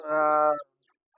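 A single pigeon coo from a caged pigeon, a warm, throaty harmonic call lasting about half a second, close and clear, followed by silence.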